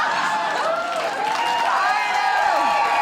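A comedy club audience gives a brief burst of applause with light cheering, a steady wash of clapping that holds for about three seconds over a faint murmur.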